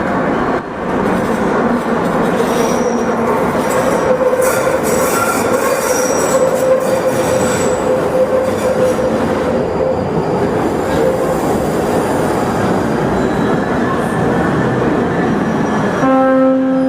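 A London Underground train at the northbound platform of Embankment station, its steady rumble and rattle filling the air with squealing wheels, loud and continuous throughout, then a short tonal chime or beep near the end.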